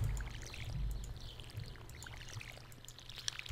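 In the farming video game Stardew Valley, a watering can soaks crops with a soft, brief splash and trickle, faint and close, with no voices over it.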